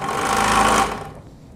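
A DeWalt DW788 scroll saw runs with a loud, close mechanical hum that tapers off as the motor winds down near the end, with no voices.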